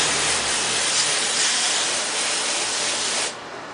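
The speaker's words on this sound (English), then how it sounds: "my sprayer has a flat rinse section thing" Steady, loud hiss of a pressure sprayer with a flat rinse section washing mud off a vehicle, broad and continuous, cutting off abruptly near the end.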